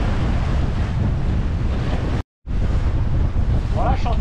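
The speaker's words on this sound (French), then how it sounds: "je suis en train de me battre avec le vent pour passer entre les îles." Strong wind buffets the microphone aboard a sailboat working between islands off Marseille in the Mediterranean, a loud continuous roar with a brief dropout midway, and water noise beneath it.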